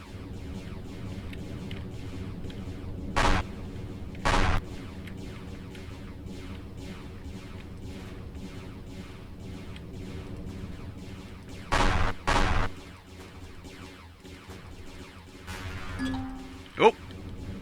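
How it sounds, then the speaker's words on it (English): Artillery booms in the space survival game Empyrion Galactic Survival, four heavy blasts in two pairs that rise above a steady background rumble, with a player talking between them. "Oh, that's artillery."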